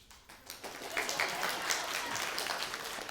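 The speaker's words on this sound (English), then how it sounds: "Round of applause for the money." Audience applause breaks out in a room, a soft, dense patter of many hands clapping that swells quickly and holds steady at a fairly faint level.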